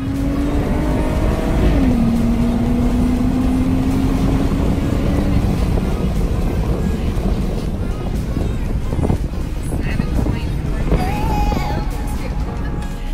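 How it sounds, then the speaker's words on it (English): Jeep with a Borla cat-back exhaust accelerating hard from a stop to 60 mph on a slight hill, recorded from inside, with a loud rising engine drone, gear changes and heavy wind noise, and voices briefly under it. "we're going to do another 0 to 60"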